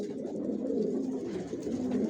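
Racing pigeons coo steadily in a breeding loft, a soft, continuous murmur of overlapping calls close to the microphone with no talk.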